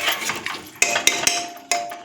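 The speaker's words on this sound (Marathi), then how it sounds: "कुकरचे झाकण लावायचं." A pressure cooker lid is set and locked in a home kitchen, giving several sharp metallic clanks and clicks over a short stretch, close and loud with no talk.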